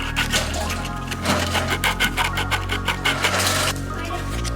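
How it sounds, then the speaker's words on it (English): Wooden cutting board being sanded by hand, a close, loud run of rapid rubbing strokes in a quick rhythm, with no talk. "You need to sand a circular object."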